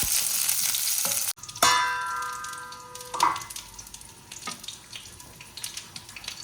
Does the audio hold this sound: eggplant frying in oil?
yes